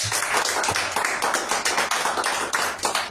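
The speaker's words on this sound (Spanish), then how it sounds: "otra vez un fuerte aplauso" An audience at a cultural event gives a strong round of applause, close, dense clapping with rhythmic surges throughout the few seconds.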